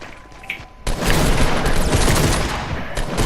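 Loud, dense gunfire in the Fortnite video game, a sustained rapid burst that erupts abruptly after a quieter moment and keeps going for several seconds up close.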